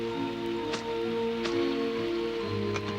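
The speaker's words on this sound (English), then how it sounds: "It had been raining since lunchtime" Cartoon rain falls in a steady, even hiss with soft patters, accompanied by sustained background music tones and a few light dripping accents throughout.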